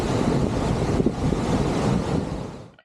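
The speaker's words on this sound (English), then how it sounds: "it is at least 15 degrees colder and windier down here by the falls" Wind roars steadily into the microphone beside Nailhead Falls in Alaska, a loud broadband rush with rushing water beneath it that fades out at the end.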